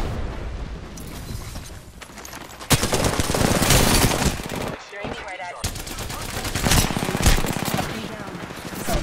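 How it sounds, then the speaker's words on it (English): Video game gunfire from enemy soldiers rattles in rapid automatic bursts and booming shots, loud and dense, with a brief gap midway before the firing resumes. "The enemies are shooting at me!"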